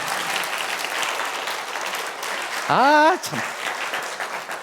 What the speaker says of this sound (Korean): 이 정도면 박수 한번 나와야 되는 거 아니에요?